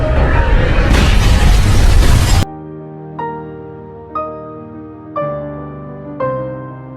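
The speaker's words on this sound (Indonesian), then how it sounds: "lift yang dinaiki John meledak" An elevator exploding in a film: a loud, roaring blast lasting about two seconds, then cut off abruptly and followed by soft, evenly spaced musical notes.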